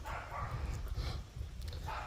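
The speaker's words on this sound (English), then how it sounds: "That dog seemed very displeased with my presence." A dog barks several times in short, irregular bursts, moderately distant and fairly quiet outdoors, with no talking over it.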